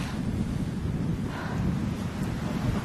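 Strong east wind buffets the microphone on a mountain ridge near Kriváň, a continuous loud, low roar with gusting pulses and no other sounds.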